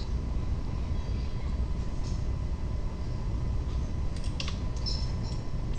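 Computer keyboard keys being pressed repeatedly, including Control T shortcuts while modeling in Blender, heard as faint, scattered clicks and taps over steady background hum.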